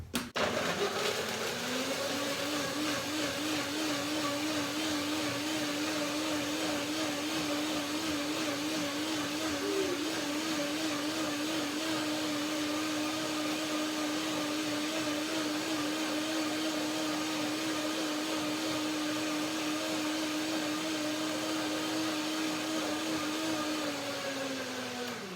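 Countertop blender whirring through lemon, water and fruit, a loud continuous motor drone lasting about twenty-five seconds with a steady pitch that wavers slightly, then winds down at the end.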